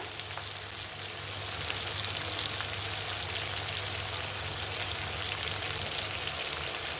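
Ginger paste fries in a pan with tomato already cooked in it, a continuous soft, even sizzle that stays moderately quiet throughout, with no talk.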